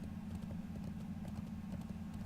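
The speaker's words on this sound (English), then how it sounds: "The horse is entirely under control. See more wild horses." Horse hooves clip-clop in the World of Warcraft video game, a quick, even trotting rhythm heard alone and fairly quiet throughout.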